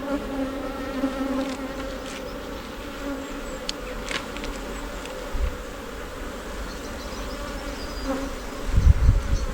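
A honey-producing bee colony hums on a hive frame packed with honey stores, a steady close buzz of many bees with individual insects whizzing past, and handling knocks at the end.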